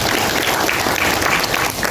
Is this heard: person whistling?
no